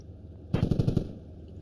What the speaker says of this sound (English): Yeah, so I'm on burst fire.